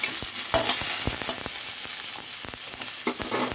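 Chopped ginger, garlic, green chilies and torn curry leaves fry in hot oil as a tempering, crackling and sizzling steadily while irregular stirring strokes clatter up close.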